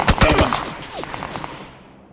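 A quick burst of rapid video game gunfire rattles out, followed by a few scattered shots that trail off into quiet.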